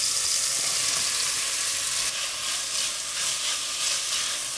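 Onions frying over low heat in a pan for a French cassoulet, a steady close sizzle with bright hissing texture and slight stirring shifts, no voices.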